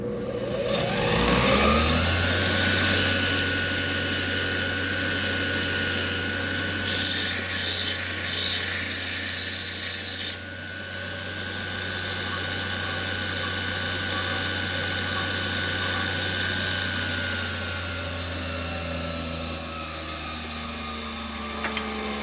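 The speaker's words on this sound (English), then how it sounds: "if we're doing anything on this grinding wheel, we want to move kind of back and forth" A bench grinder whines steadily and loudly as a workpiece is held against the spinning wheel, its harsh grinding tone shifting slightly over time.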